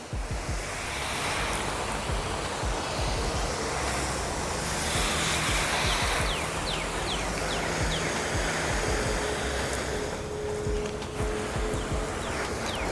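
Water sprayed over an already washed car to wet it, a broad continuous hiss and splash that stays loud and steady with slight surges.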